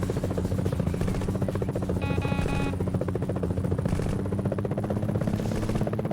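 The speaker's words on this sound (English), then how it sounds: "Enemy chopper." Rotor thumping of an enemy helicopter in the Gunship video game on PlayStation, a steady loud chopping drone with game buzz and a brief beep tone, no talk.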